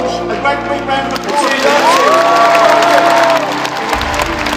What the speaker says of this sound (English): Will you give Miles and George a great big round of